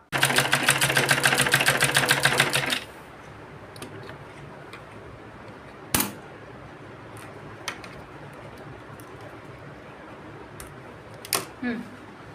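A sewing machine runs fast and loud for about three seconds, stitching a pant seam with a dense rapid clatter, then stops. Quiet room noise and a few sharp clicks and handling knocks follow.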